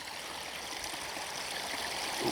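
Water falls continuously down a pipe in a steady, dense rushing flow that holds an even, fairly loud level throughout with no pauses.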